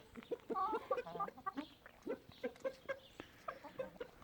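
Blue Brahma and Orange Brahma roosters cluck and squawk in short, busy bursts nearby while fighting, an agitated run of calls with a faint murmur of farmyard background.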